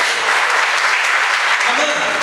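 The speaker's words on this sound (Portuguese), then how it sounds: "Aplauda o Senhor." A church congregation applauds in a sustained, loud, even wash of clapping that lasts throughout.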